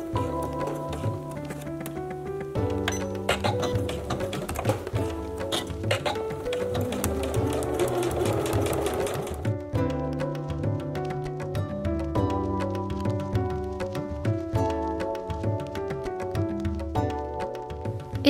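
A domestic sewing machine with a zipper foot stitches a trouser zipper fly, its needle running in a steady rapid rhythm, loud and close, with short pauses, alone and no talking.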